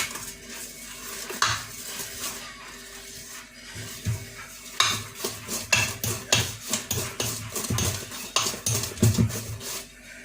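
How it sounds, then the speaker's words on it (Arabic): Cake batter is mixed in a bowl with a utensil, giving repeated close clinks and scrapes that speed into a steady rhythmic beat partway through, with no talking. "ونمزجو الخليط ديالنا"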